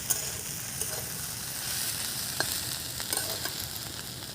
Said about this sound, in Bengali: শাকটা কিন্তু খানিক সময় একটু ভাজা ভাজা করে নিলাম,